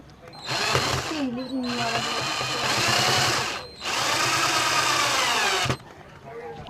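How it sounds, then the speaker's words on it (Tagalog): A power drill drives a metal screw while fixing accessories on a mini solar setup, with two long whirring bursts separated by a short pause, loud and close, and a person talking over the motor. "Hirap talaga pag metal screw. Mahirap pakunin."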